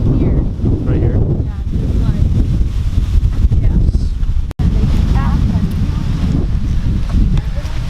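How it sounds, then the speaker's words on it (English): Strong wind buffets the microphone outdoors at a muddy college tailgate, a loud continuous rumbling roar with faint voices in the background and one brief dropout midway. "Oh, it's windy."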